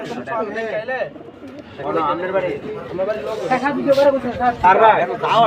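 Pigeons coo steadily under loud, continuous talking and nearby chatter, in a busy, crowded market.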